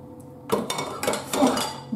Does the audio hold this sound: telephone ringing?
no